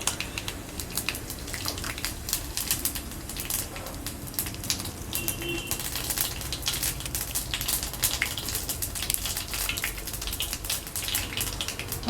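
Cumin seeds crackle in hot oil right after mustard seeds have popped, the start of a North Indian style drumstick leaf dal; a fairly quiet, continuous fine sizzle runs throughout, without speech.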